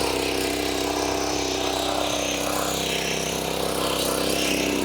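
A 7.5 HP power tiller engine runs steadily nearby, a loud continuous mechanical drone with a constant low hum and no breaks.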